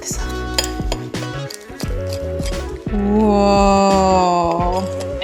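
A breakfast sandwich being cut on a plate, with repeated clinks and scrapes of cutlery against the dish, close and fairly loud, with a sustained ringing tone toward the end.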